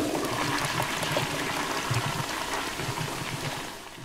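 A toilet flushes in the horror game Resident Evil 7, a steady rushing and trickling of water running for a few seconds at moderate level, then tapering off toward the end with no talk over it.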